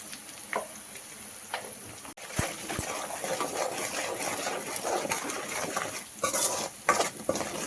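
Spices with salt and chili powder fry in a pan with a soft, continuous sizzle, while a spoon scrapes and clinks against the metal now and then.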